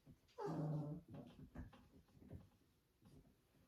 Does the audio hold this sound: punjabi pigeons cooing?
no